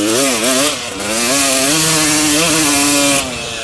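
Two-stroke dirt bike engine revving hard while pinned in sand, a loud, sustained buzzing whine that rises and falls in pitch through repeated throttle surges.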